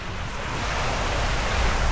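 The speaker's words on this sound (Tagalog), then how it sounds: "Pakita ko sa inyo yung dagat." Sea surf rolling onto the shore at Puerto Galera, a loud, steady broadband wash of breaking waves mixed with wind buffeting the microphone, with no voices.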